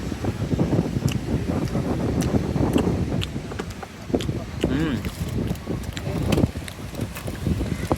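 Sea breeze on a beach at Uthandi, gusty wind buffeting the microphone in loud rumbling bursts, with people talking over it.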